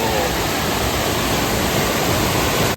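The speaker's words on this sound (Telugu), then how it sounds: "చూడొచ్చు డ్యామ్ లో నుంచి వాటర్ అయితే కనుక ఎంత బ్యూటిఫుల్ గా వస్తా ఉందో" Water released through the raised gates of Sholayar Dam pours out in a loud, dense, continuous rush. Nothing else is heard, and the roar holds steady without a break.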